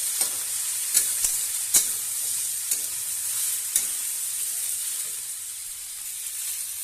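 Vegetables for an aloo baingan sabzi frying in a pan with oil, a steady close sizzle under a few sharp clicks of a spoon stirring and scraping the pan, no voices.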